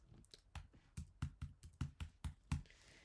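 Keys on a computer keyboard are typed in about ten quick, evenly spaced, soft clicks as a birth date is entered, recorded close with no speech.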